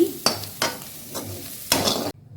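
Egg fry is stirred in a pan, with a few separate scraping stirs over a soft sizzle. The sound is close and moderately loud, then cuts off abruptly near the end.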